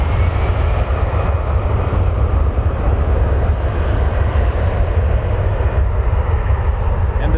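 A jet airliner roars on takeoff from runway 23 at Toronto Pearson Airport, a loud, steady broadband engine rumble sustained without a break.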